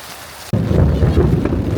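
A sudden crash of thunder breaks in over a steady wash of heavy rain, the rumble and downpour filling the rest of the moment loudly and close.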